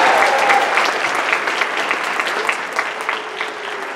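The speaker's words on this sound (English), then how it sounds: "Can you give them a round of applause?" Applause from a concert audience at a high school choir alumni reunion, steady close clapping that fills the room and slowly thins toward the end, with no one speaking.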